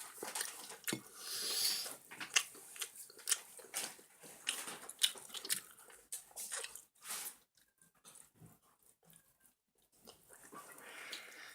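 Hot fried chicken wings eaten close to the mic, with wet bites, squishy chewing and small patters arriving in uneven bursts that thin out toward the end, and no talking.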